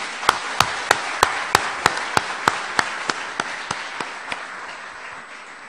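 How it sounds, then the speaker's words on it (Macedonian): An audience applauding after a speech claps in about fourteen evenly spaced, crisp beats, steady and rhythmic, that gradually fade toward the end. "Посакувам место лајк уште еден аплауз"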